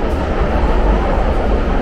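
A London Underground tube train rolls along, an older-style carriage filled with a steady, loud rumble and continuous rail roar, with no voices over it.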